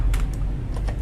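Keys clack on a gaming keyboard fitted with Akko Matcha Green switches, a few crisp separate strokes close by with short pauses between them.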